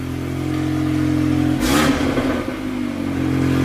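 A Stage 2 tuned VW Golf R MK8 2-litre engine gives one quick rev blip over a steady idle, a short loud rise that falls back to the idle drone; no talking.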